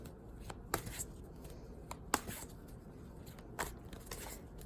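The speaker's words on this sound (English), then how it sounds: "So I've been shuffling, like as I go here," Tarot cards being shuffled by hand, heard as several crisp, brief riffles and slaps at irregular intervals over a quiet background, close and fairly faint.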